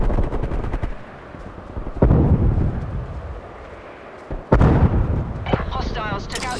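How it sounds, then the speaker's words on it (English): A hostile sentry turret fires in a Call of Duty Black Ops Cold War team deathmatch on Yamantau, with rapid, heavy machine-gun bursts and booming reports that hit hardest twice, under other game noise and voices. "Hostile sentry turret active."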